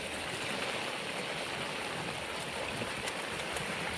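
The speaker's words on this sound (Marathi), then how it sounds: "त्यात वारा पण आहे आणि पाऊस पण आहे" Steady heavy monsoon downpour with wind and rushing floodwater near flooded fields in the Sahyadri hills, a dense, unbroken roar from start to end.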